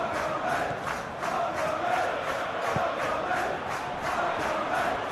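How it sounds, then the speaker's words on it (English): Stadium crowd in a simulated Premier League football match between Bournemouth and Chelsea, a steady roar with rhythmic chanting pulses, rising in displeasure after an expected shot fails to come, with no commentary over it. "the crowd aren't happy"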